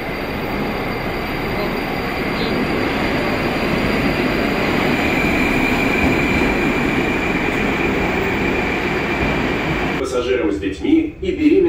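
Metro train at a new subway station, a loud steady rumble and roar of rolling carriages with a faint high whine, fading near the end as a voice speaks.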